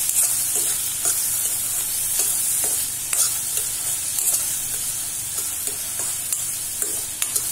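Finely chopped onion sautéing in a pan for paneer bhurji, cooked until brown: a loud, continuous hiss of frying with regular stirring scrapes throughout, no voices.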